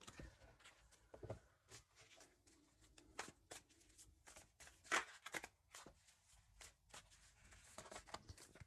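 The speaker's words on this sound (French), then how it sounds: "Je mélange bien les cartes." A deck of tarot cards is shuffled by hand in a quiet room, with repeated crisp riffles and soft slaps of cards in an uneven rhythm, close and fairly faint.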